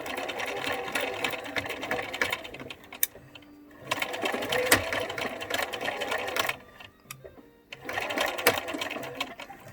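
A sewing machine stitches the side seam of a face mask in three bursts of fast, even whirring, with short quiet pauses between them as the work is turned.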